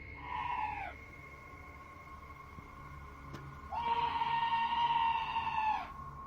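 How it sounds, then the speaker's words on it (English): A scream outside the door of a trailer: two long, eerie, wavering cries, one short and one drawn out, sounding at a middle distance over a quiet, still background. "This scream sounds like chills made audible, happening outside the door of what appears to be a trailer."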